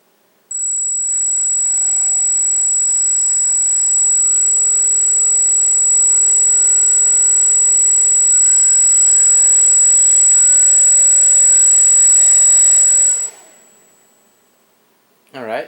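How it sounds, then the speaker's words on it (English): A Parkzone Archer RC airplane's electric motor runs up to a steady, loud, high whine for about twelve seconds, then spools down and stops. "here we go for a little motor test"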